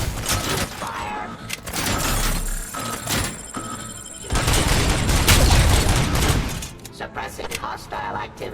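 Gunfire in the RoboCop: Rogue City game, heavy repeated shots and impacts in irregular bursts mixed with loud clanks and rumble, under a synthetic voice calling out commands.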